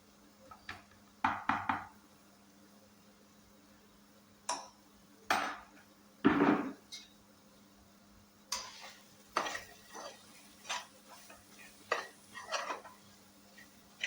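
Chili powder is stirred and sautéed in a pan over a low flame for a hotel-style boti dish, heard as intermittent scraping and clinking strokes of a spoon against the pan, fairly close and quiet, with a faint low hum underneath.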